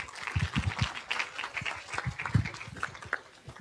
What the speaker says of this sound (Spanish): Por favor, un fuerte aplauso para nuestra invitada